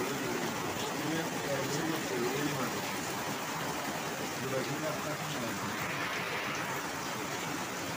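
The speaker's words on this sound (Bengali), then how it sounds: "আর দেখুন কী পরিমাণ বৃষ্টি হচ্ছে বাইরে।" Heavy monsoon rain falls steadily outside in a rural village, a dense, continuous hiss that stays even throughout and sits mostly beneath a person speaking nearby.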